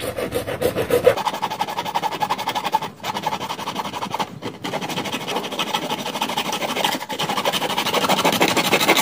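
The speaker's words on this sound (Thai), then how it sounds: "ใช้เลื่อยตัด" A hand saw cuts through PVC pipe with steady back-and-forth rasping strokes, close and continuous, broken by a few brief pauses.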